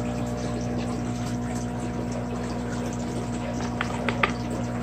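Water drains out of an aquarium tank during a water change, a steady pump-like hum and low trickling flow with a few faint clicks near the end.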